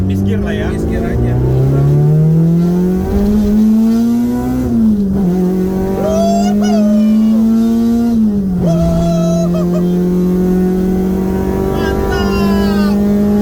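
The engine of a Honda Civic EG6 revs hard up through the gears, loud and close, its pitch climbing, dropping at each shift, then climbing again. Occupants talk over it.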